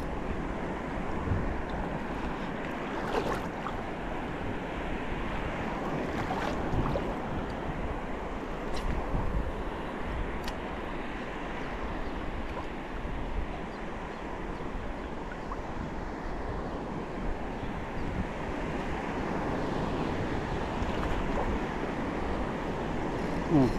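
Ocean waves and wind heard from a small fishing boat out at sea with nets, a steady, continuous wash of water and gusty microphone wind throughout, with no clear speech.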